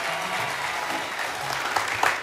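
Steady applause from the audience at a televised Hungarian song contest heat, A Dal 2018, filling the room at an even level with a few louder bursts near the end.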